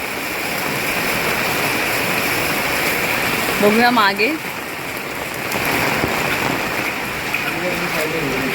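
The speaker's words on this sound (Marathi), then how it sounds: "हे असं पायपातून बाहेर पडतं आहे आणि तिथे जाऊन साचत आहे" Floodwater from heavy monsoon rain pours out of a pipe in a waterlogged housing society, a steady loud rushing and splashing wash that runs throughout, with someone speaking briefly in the middle.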